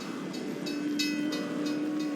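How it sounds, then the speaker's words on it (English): A train rolls past in the Roblox game Greenville, a steady low rumble with a faint sustained horn-like tone and soft rhythmic clatter, heard at moderate distance with no talk. "Oh, there's the train passing."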